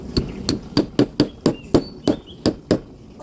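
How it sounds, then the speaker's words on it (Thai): A wall plug anchor is tapped into a wall with the hammer attachment of an AKITA drill, about ten sharp, evenly spaced blows ringing out close and clear. "เราก็จะฝังพุกใช่ไหม นี่ทำไงครับ ไม่ต้องไปหาค้อนครับ นี่ ตอกเลย"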